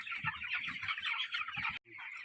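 Chickens on a poultry farm cluck and chatter continuously in a dense, close flock, with a brief gap before the clucking resumes; no talking.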